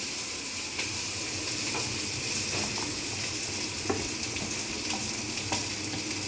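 Onions fry in hot oil for biryani, a steady hissing sizzle close by with occasional light spatula clicks and no talk.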